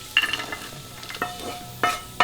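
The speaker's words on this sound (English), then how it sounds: "all the nuts and the raisins have had 2 minutes of frying" Nuts and raisins sizzle frying in a pan, with several sharp metallic clinks of a spoon stirring against the pan at irregular intervals.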